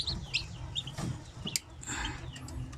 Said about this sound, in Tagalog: May mga napipisa tayo ng mga sisiw.